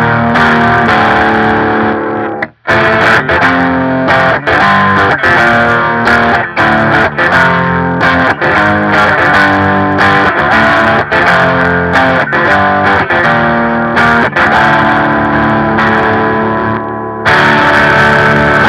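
An LTD Phoenix-1000 Deluxe electric guitar plays through a super overdrive pedal, first in regular humbucker mode and then coil split: loud, sustained distorted chords and riffs with brief gaps and a short pause near the start.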